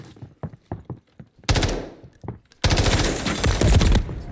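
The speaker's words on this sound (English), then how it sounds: "it was burst fire" Burst-fire gunshots in Modern Warfare 3: a string of short, sharp separate shots, then two long, dense, loud volleys of automatic fire.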